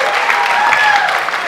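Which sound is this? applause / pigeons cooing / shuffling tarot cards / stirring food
applause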